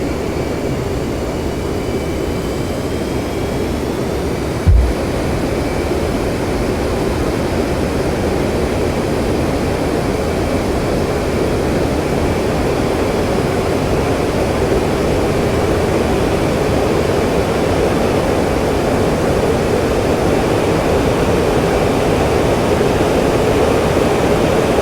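Twin jet engines of an F-15C Eagle at full throttle in the DCS World flight simulator, carrying fuel tanks, a loud steady roaring rush that holds constant throughout, with one brief thump near the start.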